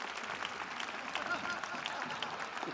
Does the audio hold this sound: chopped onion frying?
no